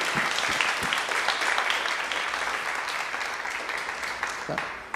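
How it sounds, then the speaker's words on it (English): An audience applauds steadily after a prayer at a church friendship evening, the clapping dense and close, fading slightly toward the end. "Should we give him a round of applause?"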